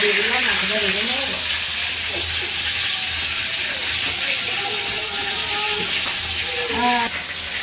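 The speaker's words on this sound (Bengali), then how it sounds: "মাছটা দিয়ে দিলাম, মাছটা ভেজে নেব।" Hilsa-like fish frying in a pan for a Bengali fish and brinjal curry: a steady, loud hiss of oil runs throughout, with a brief voice or bleat-like tone near the start and again near the end.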